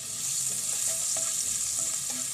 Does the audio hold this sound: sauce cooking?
yes